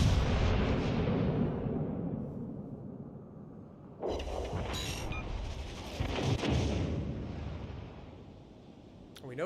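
Naval guns fire at an enemy warship in World of Warships Legends, with heavy booming salvos and rumbling blasts layered over continuous engine and sea noise, loud and close, with a voice speaking over part of it.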